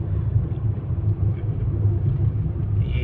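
A Maruti WagonR car cruises along a highway near a toll plaza, giving a steady low road rumble and engine drone that stays even and fairly loud throughout, with no speech.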